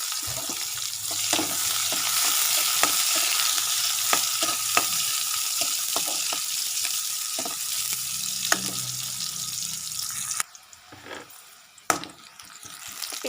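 Onion fries in hot oil with whole cumin seeds, a dense close sizzle with scattered stirring clicks and scrapes, then a sudden drop to quieter spitting near the end.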